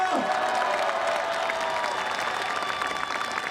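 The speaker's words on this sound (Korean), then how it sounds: "박수 한번 부탁드리겠습니다" A crowd applauds loudly and continuously at a Korean labor rally, a dense wash of clapping with faint cheering mixed in.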